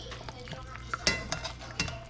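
Meat stirred with a utensil in a pressure cooker, giving a soft scraping, clinking stir with several brief louder knocks against the pot over a low cooking hiss, close up.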